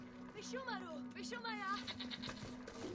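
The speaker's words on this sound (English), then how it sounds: "Mountain goats. Just a mountain goat." Mountain goat in the video game Brothers gives wavering bleats over a steady low hum, with a person talking at the same time.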